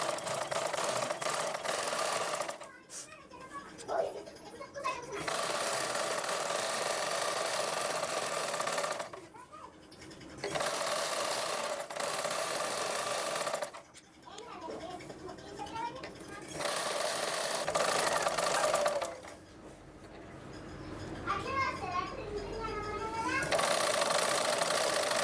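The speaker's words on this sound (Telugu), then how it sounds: "ఇప్పుడైతే కుట్టేసుకుందాం. అయితే దీనిపైన కుట్టేసుకుందాం." A sewing machine stitches thread piping onto a blouse in several long, steady runs of close, loud whirring, separated by short pauses.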